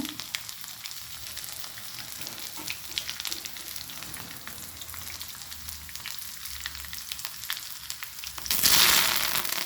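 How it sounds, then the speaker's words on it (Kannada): Mustard seeds and garlic sizzling in hot oil on a stove for ridge gourd sambar, a dense continuous crackling hiss with scattered pops, rising into a louder, brighter burst near the end; no voices. "ಈಗ ಸ್ಟವ್ ಮೇಲೆ ಸ್ವಲ್ಪ ಎಣ್ಣೆ ಬಿಸಿಯಾಗಲಿಕ್ಕೆ ಇಟ್ಟಿದ್ದೇನೆ ಬಿಸಿ ಆಗ್ತಾ ಉಂಟು ಇದಕ್ಕೆ ನಾನು ಸಾಸಿವೆಯನ್ನು ಹಾಕ್ಕೊಳ್ತೇನೆ ಈಗ ಬೆಳ್ಳುಳ್ಳಿಯನ್ನು ಹಾಕ್ಕೊಳ್ತೇನೆ"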